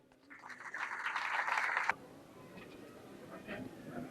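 A crowd breaks into applause, a dense burst of clapping lasting under two seconds before cutting off abruptly, followed by quiet room noise with faint scattered sounds.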